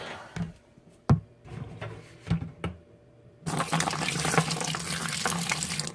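A few light knocks and clinks of handling, then sanitizer liquid pours in a steady, splashing stream for the last couple of seconds, while brewing a Coopers home-brew kit.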